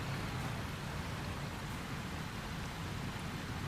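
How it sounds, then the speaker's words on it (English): Ambient water in the road-repair game Construction Simulator on PS5, a dense, steady rushing wash like heavy rain or flowing water, unbroken and moderately loud for the whole stretch. "you can actually hear the sound of the water as well at this point."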